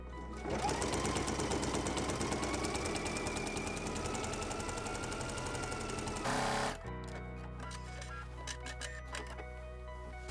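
A home sewing machine runs steadily for several seconds, straight-line quilting stitches across a triangle grid quilt, with a fast even motor whir that stops abruptly, followed by quieter handling sounds.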